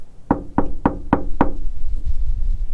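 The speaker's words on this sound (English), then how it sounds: "Have you ever had that dreaded knock in the middle of the night while you're sleeping" Five sharp, evenly spaced knocks strike a van door at night, loud and close, followed by a low murmur of background rumble.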